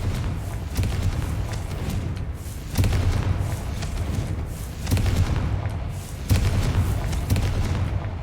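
Repeated deep booming blasts from the Confringo fire spell in Hogwarts Legacy, four heavy explosions spaced a couple of seconds apart, each with a rumbling tail over a constant low game ambience.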